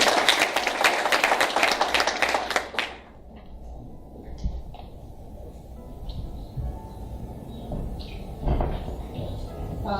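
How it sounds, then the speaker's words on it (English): Audience clapping at a law school moot court competition opening ceremony, a loud burst of applause for the first few seconds that cuts off abruptly, followed by quieter room noise and scattered shuffling. "A round of applause, please"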